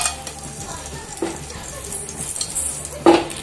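Cinnamon stick pieces and cloves frying in hot oil for a fish curry make a soft, low sizzle, with scattered clinks and stirring scrapes of a utensil against the pan and one louder knock near the end.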